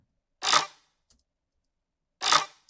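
Dinosaur-style sound effect made from Barbie doll sounds pitched up twelve semitones: two short, bright, harsh bursts separated by a second or more of silence, with a faint click between them.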